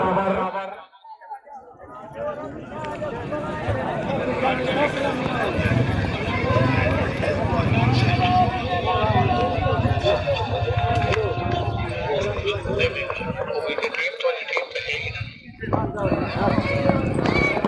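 Horse hooves clip-clop at a neza bazi tent-pegging event at Ravi, Pakistan, with steady hoofbeats and an occasional whinny running under loud announcer speech and crowd chatter across an outdoor field.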